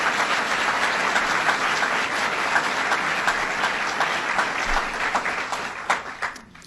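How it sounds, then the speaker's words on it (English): Sustained dense applause from an audience honoring state legislators at a governor's event in Chautauqua County, steady and full throughout before tapering off at the end. "Let's give them a round of applause for what they do."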